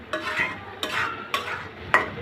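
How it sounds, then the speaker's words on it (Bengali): Carrot halwa with raisins being stirred in a pan: a spoon scrapes and clinks in four distinct strokes, each a short bright scrape followed by a softer dragging sound, close up with no talking. "নেড়ে চেড়ে নিব।"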